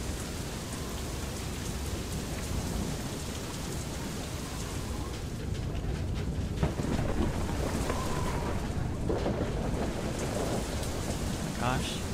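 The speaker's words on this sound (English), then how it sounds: "Sound of the rain hitting the metal body of the craft." Steady heavy rain drums on the metal body of a craft in a video game, a dense continuous patter with a few louder splashes and rumbles, fairly close and constant throughout.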